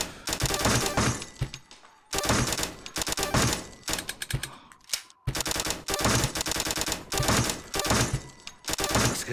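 A Tommy gun fires in long rapid automatic bursts during a VR skeet shooting game, loud and close, each burst broken by short pauses.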